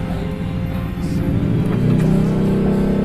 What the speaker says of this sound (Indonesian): motor berisik sekali